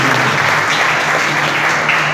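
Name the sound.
applause for Jesus in church service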